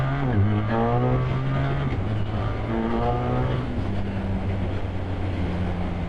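A BMW R1300R motorcycle engine pulls hard under acceleration, a steady, loud rising drone with stepped pitch changes as the gears change, heard up close with no talk.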